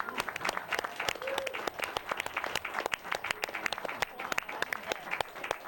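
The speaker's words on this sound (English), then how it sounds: "Can we have a round of applause?" Studio audience on a midnight talk show clapping steadily, a dense, lively round of applause lasting several seconds without a break.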